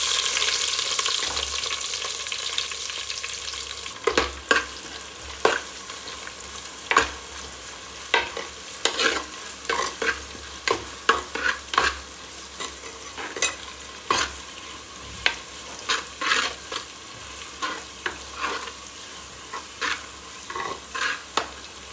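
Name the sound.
onions frying and being stirred in a pan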